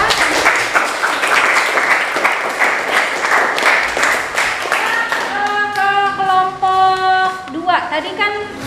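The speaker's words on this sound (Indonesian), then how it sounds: "kita beri aplaus untuk kelompok 3" Classroom applause for a student group after their chemistry presentation, a dense crackle of many hands clapping for about five seconds, then giving way to sustained tonal sounds and a voice.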